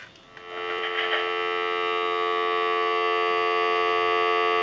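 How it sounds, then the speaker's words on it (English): A steady telephone dial tone hums continuously from a Sitel wood wall designer telephone, fading in after a brief click and holding loud and unbroken. "we're going to give you some dial tone"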